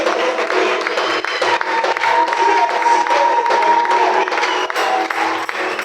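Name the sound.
congregation applauding and cheering in church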